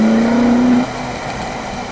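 Supercar on the Three Sisters race track in Wigan, engine note rising steadily under gentle throttle, then easing off into a lower roar, loud and close from inside the car.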